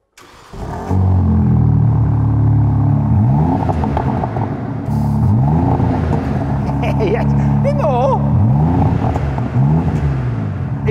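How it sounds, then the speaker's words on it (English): A BMW M3/M4 with sports exhaust in loud mode cold-starts with a sharp bark, then holds a loud, rumbling high idle with repeated rising revs, and voices are heard faintly over the engine. "Obviously, we're going to start it in loud mode, and the car is ice cold, so we'll get a cold start as well."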